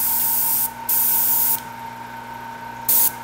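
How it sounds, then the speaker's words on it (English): A small air compressor hums steadily while an airbrush sprays paint onto a woodturned hollow form in loud hissing bursts of about a second, with pauses between. "I'm sure you can hear my little air compressor"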